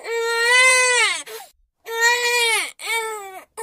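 A baby cries in loud wailing bursts, two long cries and a shorter one with brief gaps between them. The crying is close and clear, and a woman's cry is heard beside it near an old well in a courtyard.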